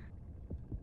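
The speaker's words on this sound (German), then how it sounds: "da wird der Herzschlag lauter" A heartbeat in the underwater video game Depth thumps out as two deep, muffled low beats over a soft humming background, each pulse rising from the quiet drone.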